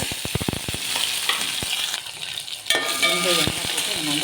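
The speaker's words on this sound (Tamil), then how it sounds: "எல்லாத்தையும் ஒன்றா போட்டு நம்ம வதக்கி" Masala sautéing in hot oil in a kadai for brinjal gravy, a steady close sizzle broken by sharp scraping stir strokes and clinks, with no voices.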